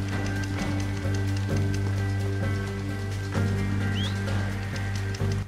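A horse in Red Dead Redemption 2 whinnies and snorts amid hoof clip-clops over a steady background of game music and drone.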